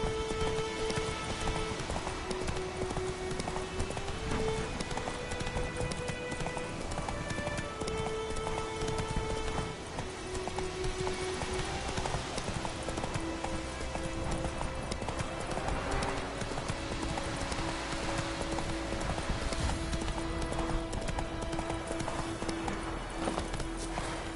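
Horse galloping in The Witcher 3, rapid steady clip-clop hoofbeats throughout, loud and close, with background game sounds and rain-like patter.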